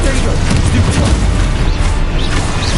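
Spell blasts and explosions from the video game Hogwarts Legacy, a dense, loud wash of booming impacts and crashing noise that rumbles on without a break, with a voice calling out spell names over it.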